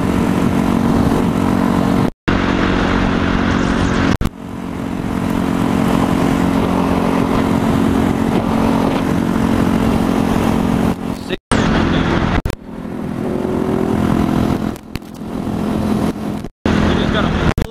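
A Ducati 1299 Panigale with a full Akrapovic exhaust roars close by with a deep, raspy exhaust note, revving loudly and cutting out briefly between bursts as it accelerates hard.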